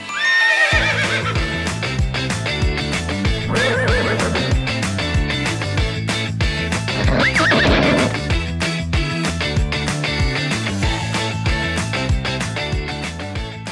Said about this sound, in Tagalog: Pinakamagandang way to explore Binondo is sumakay ng kalesa.